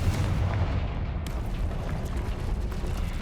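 A Confringo blasting spell in Hogwarts Legacy sets off a loud, rumbling explosive burst that roars continuously for a few seconds, with deep booming low end and crackling debris, no speech.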